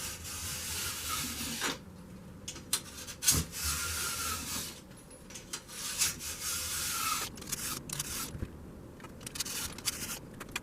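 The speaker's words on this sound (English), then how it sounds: "Getting really close to filing off all the excess metal that was sticking up." A hand file rasps back and forth across a steel rail to take off excess raised metal, with close, rhythmic scraping strokes separated by brief pauses.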